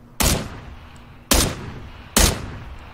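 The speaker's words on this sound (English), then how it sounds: "somebody shot beside you. Hear that?" Three loud, booming gunshots in the video game PUBG, evenly spaced about a second apart, each with a short echoing tail and heard with no talking over them.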